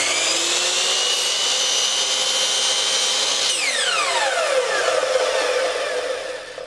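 A power saw cuts a small wooden arch piece for a gothic finial cap, giving a loud steady whining cut that ends as the blade winds down with a falling pitch.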